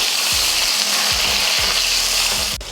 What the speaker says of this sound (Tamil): ஒரு எட்டு பல் பூண்டு இதை வதக்கிடலாம்